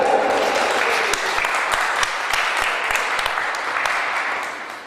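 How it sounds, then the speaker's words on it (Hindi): Loud, steady applause from an audience welcoming a guest at an awards ceremony, continuous dense clapping throughout. "जोरदार ताली से स्वागत करेंगे भूरिया जी का, जोरदार ताली"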